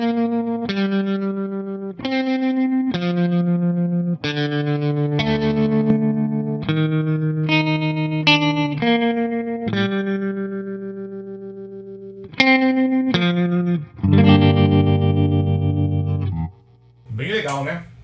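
An electric guitar played through a Mesa Boogie Dual Rectifier Tremoverb amp chugs out a distorted rock riff of separate chords and notes, ending in a longer sustained passage. It is loud and close throughout.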